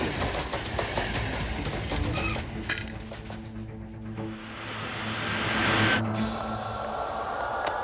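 A train rumbles past with rhythmic clattering and a steady roar that swells and fades, loud and close, and no voices are heard.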